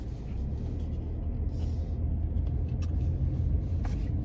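A car drives through a gated residential community in Palm City, Florida, heard from inside as a steady low engine and road rumble, even and continuous with no talk.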